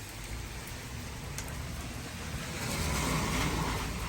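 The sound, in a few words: heavy rain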